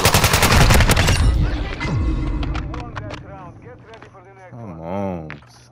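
Rapid automatic gunfire from the game Modern Warfare 2 rattles loudly in a fast burst, then gives way to scattered shots under speaking voices and game sounds.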